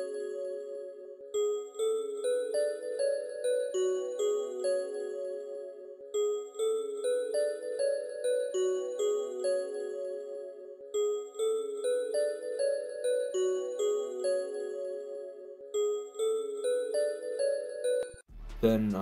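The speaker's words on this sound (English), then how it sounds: "I've added some bells from Analog Lab, and you already know I had to add that portal preset just to give it that delay crystal-ish effect" Bell sample from Analog Lab played through the Portal preset, giving a delayed, crystalline shimmer: bright tinkling bell notes repeating in steady rhythmic patterns over a sustained mid tone, loud and continuous, ending with a brief thump.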